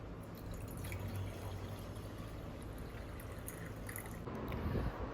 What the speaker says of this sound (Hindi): मैं केटल में अपने लिए गर्म पानी, जो कि मैंने उसको ऑन कर दिया है